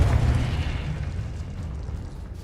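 Confringo explosive spell going off in Hogwarts Legacy: a loud, heavy burst with a deep rumbling boom that rolls on steadily and fades slightly over a couple of seconds.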